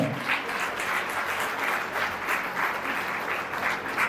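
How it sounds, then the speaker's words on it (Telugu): An audience at a Telugu religious discourse claps steadily, a dense rhythmic applause that holds evenly for several seconds with no voices on top. "గట్టిగా చప్పట్లు కొట్టి"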